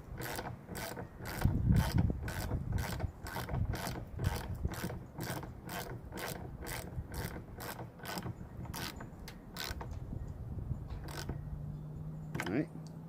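A hand ratchet tightens roof rack bolts on a Honda Element, producing a steady run of crisp, evenly spaced clicks close by, with a brief voice near the end.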